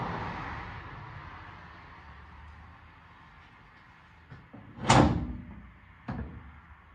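Driver's door from a Dodge Dakota pickup being handled indoors, with a sharp knock near five seconds and a smaller clunk after it over a low steady background hum.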